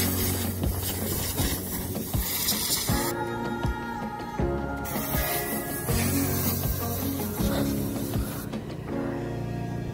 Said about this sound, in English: So Sean uses the air compressor to spray out all of the extra excess wood that he's cut already